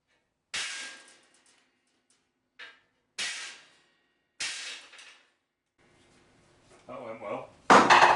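Hammer blows striking a clamped steel piece on a steel welding bench: four sharp, loud metallic clangs spaced a second or more apart, each ringing briefly, followed by rustling and a short burst of talk at the end.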